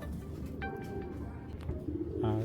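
Young male racing pigeons of the white tiger colouring coo softly in low, murmuring phrases over a steady background hum, with a faint thin tone running through the middle.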